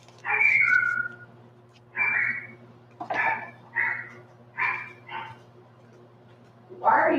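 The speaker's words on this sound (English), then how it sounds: "Why are you barking?" A dog gives a series of about seven short barks and yelps in bursts, fairly close, over a low steady hum with no other sounds.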